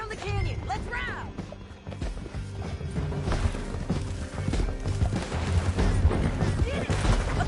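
Horse hooves galloping in Red Dead Redemption 2 over a canyon ride, with a rapid, irregular clatter mixed with gunfire, a neigh and shouted voices.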